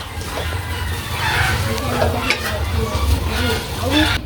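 Mung beans frying in a pan get stirred with a utensil for sautéed monggo, a continuous scraping and shuffling over a steady sizzle, close and fairly loud.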